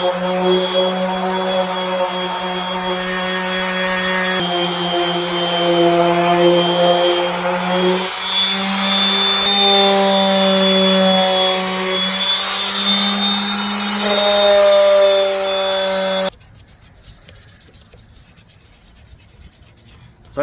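A 1991 Honda CRX Si taillight lens being sanded with 600 grit, likely by a power sander, a loud steady droning whine with shifting tones for about sixteen seconds, then stopping abruptly into near quiet.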